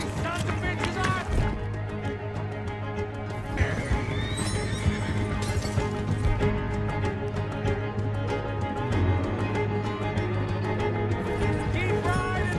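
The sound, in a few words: horses galloping while riding, from video game Red Dead Redemption 2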